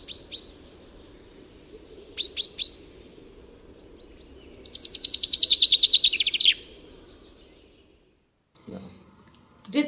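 A small finch in winter gives short, bright chirps in pairs, then a fast, loud rattling trill lasting about two seconds, heard up close over low background rumble.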